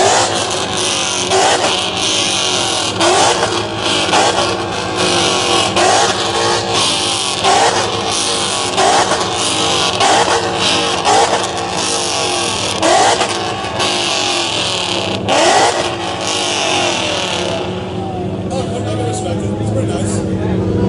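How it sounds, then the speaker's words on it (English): Ford Mustang engine revving repeatedly during a rev battle, a loud, steady series of throttle blips every second or so over a noisy crowd, fading toward the end. "so the rev battle's happening right now"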